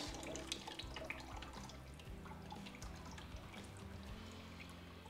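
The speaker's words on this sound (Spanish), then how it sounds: "Ahora vamos a drenar esta agua." Soaking water from a jar of grain for rejuvelac is drained off in a steady trickling pour with scattered drips, close by and fairly quiet, with no voices.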